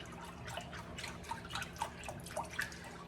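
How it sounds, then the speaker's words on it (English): A whisk stirs a red curry casserole mixture in a bowl, giving faint, soft, wet clicks and drips in an irregular rhythm, quiet and close with no talking. "Just gonna whisk this together."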